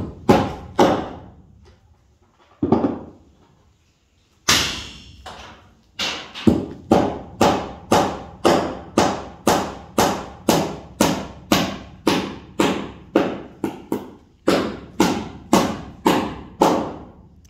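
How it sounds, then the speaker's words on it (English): Acorns dropped by squirrels from oak trees thud onto a roof, starting as a few scattered hits and then falling in a fast, fairly regular run of sharp close knocks, each trailing off briefly. "We got squirrels up in the oak trees throwing acorns down on the roof here."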